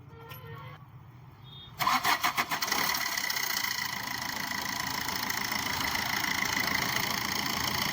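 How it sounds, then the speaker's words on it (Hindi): A car engine with a P0340 fault code and a starting problem cranks with a quick stuttering whir, then catches and settles into a steady, close idle hum. "स्टार्ट कर भाई, स्टार्ट करो गाड़ी"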